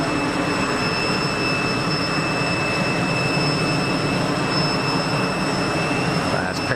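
An easyJet A320neo jet airliner inbound to Geneva Airport gives off a steady, broadband roar held at an even level throughout, with constant high whine tones riding over the rumble.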